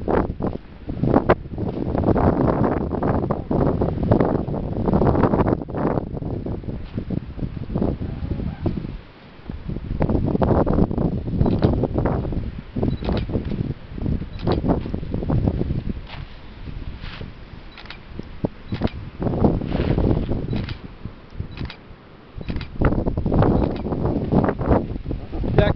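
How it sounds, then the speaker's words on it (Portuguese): Strong gusts buffet the microphone outdoors at sunset in Fortim, Ceará, a loud continuous roar that swells and dips with brief lulls, with people talking under it. "Desculpa a questão da ventania, né?"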